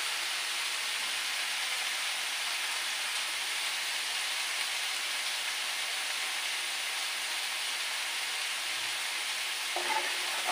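Papaya fries in oil in a wok (kadai), a steady, even sizzle heard close and moderately loud, continuing unbroken with no talk.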